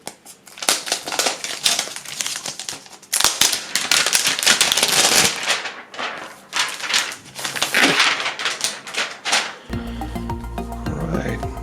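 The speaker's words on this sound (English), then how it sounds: "let's unwrap the tablet" A Microsoft Surface Go tablet being unwrapped, with crinkling and tearing plastic wrap that rustles loudly and irregularly at close range, ending with a brief tonal hum.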